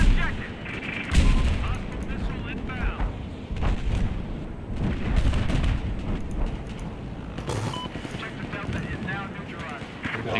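Rapid gunfire crackles through a Battlefield V match on the Zavod 311 map, with repeated sharp bursts and distant shots running throughout, while players talk over the shooting.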